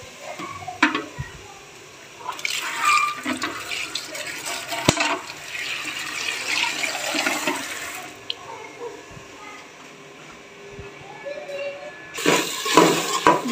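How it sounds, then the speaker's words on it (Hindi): Cut potatoes are rinsed under a running kitchen tap, with close splashing water in several bursts and quieter handling between them. "जो आलू काटे हुए हैं इनको भी वॉश कर लेती हूँ।"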